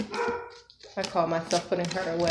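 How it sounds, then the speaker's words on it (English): A pet dog barks in a home during a tarot reading, several sharp barks breaking up a woman's speech in the room, the dog close and loud between and under her words. "You guys hear dog barking."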